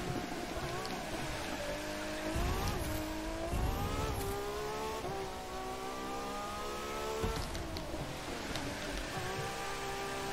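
Maserati MC12 Version Corse race car at roughly 300 km/h in The Crew 2, its engine droning loud and steady with rising and falling pitch sweeps through gear changes and a sustained high-speed roar.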